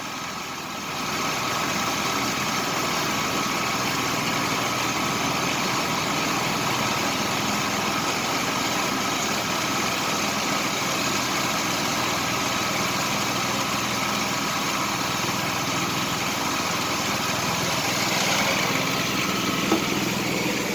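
A car engine idles steadily while running rich, giving a loud, continuous, even rumble with a light vibrating buzz that holds unchanged throughout, close by and with no talking.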